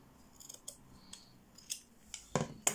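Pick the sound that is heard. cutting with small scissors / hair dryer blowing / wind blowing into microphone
cutting with small scissors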